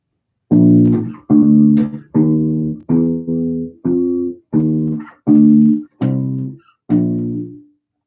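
A bass guitar plays a 12-bar blues walking line, nine evenly spaced plucked notes stepping along in a steady rhythm, clear and alone with no talking.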